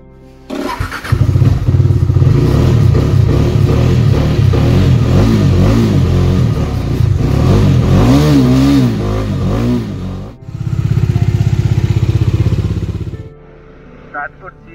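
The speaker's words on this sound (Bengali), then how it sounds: "তো বাইকটা কিছুক্ষণ কোল্ড স্টার্ট করবো।" A motorcycle cold-started after sitting unused with a weak battery, its engine catching and running loud and close with repeated revs, then a brief dip and another burst before it idles down.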